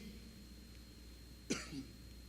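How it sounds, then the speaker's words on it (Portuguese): A single sharp cough from someone choking on saliva, followed a moment later by a softer throat sound, in an otherwise quiet room. "Eu tossi porque eu engasguei com a saliva."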